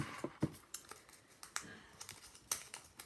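Oracle cards tossed down one after another for a general reading, making a quick run of light slaps and papery clicks, close and fairly quiet.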